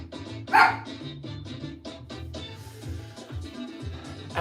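A dog barking at small noises in an indoor hallway, a quick run of about six or seven sharp barks and yips fairly close, with one louder bark near the start.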